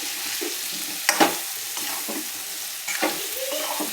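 Drumsticks sautéing with red chili powder in a pan, a quiet steady sizzle broken by a few scraping stirs of a spatula, close up with no talking.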